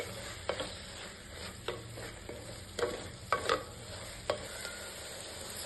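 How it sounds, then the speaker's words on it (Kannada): Mint and coriander leaves fry in a pan for egg biryani, a soft steady sizzle broken by several sharp scraping clacks as a spoon stirs them. "ಇದನ್ನೆಲ್ಲ ಚೆನ್ನಾಗಿ ಫ್ರೈ ಮಾಡ್ಕೋಬೇಕು."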